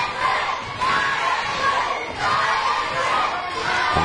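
Wrestling crowd at a W3L Remedy event roaring and cheering in waves, a dense, loud mass of shouts that swells and dips rhythmically throughout.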